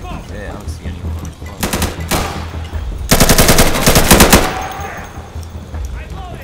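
Rapid bursts of automatic gunfire from hostile fighters in the tactical shooter Insurgency, loud and close, with a long sustained volley after a shorter one and faint voices in the background.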